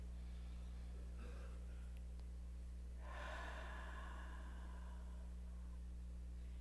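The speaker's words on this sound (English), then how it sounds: "Take in a deep breath." A single deep breath drawn in, a soft airy inhale rising about halfway through and fading, close and alone over a steady low hum.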